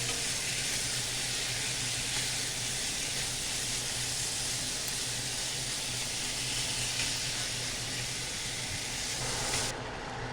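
Beef browning in a hot pan for a ginger beef stew gives a steady, loud, continuous sizzle and hiss with a low rumble beneath, no talking, cutting off abruptly near the end.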